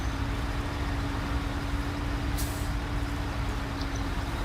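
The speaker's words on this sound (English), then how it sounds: "The engine is making sound of struggle" A heavy truck engine in the video game Snowrunner droning steadily with a constant hum, strained and labored, with a short hiss partway through; no talking.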